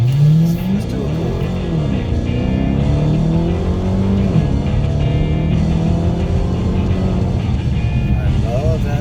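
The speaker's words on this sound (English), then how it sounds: "I love that supercharger." A Dodge Challenger Hellcat with a supercharged engine pulls from inside the car, its loud engine note rising and falling through revs over a constant road rumble, while someone talks in the cabin.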